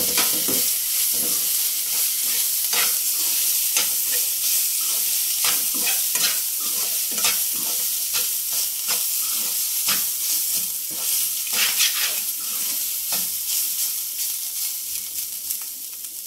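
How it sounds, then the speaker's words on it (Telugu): Coconut, ginger and green chili paste fries in a tempering of hot oil, a loud continuous sizzle broken by frequent rhythmic spatula scrapes and stirs, no talk. "పచ్చివాసన వెళ్ళే వరకు ఫ్రై చేస్తున్నాం"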